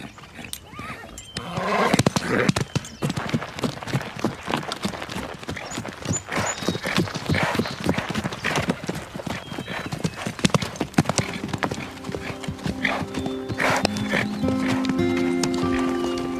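Hooves clip-clop steadily in an animated horse-riding series, a dense rhythmic clatter of a horse on the move that builds after a brief quiet start and carries on loud and near, with some music joining late.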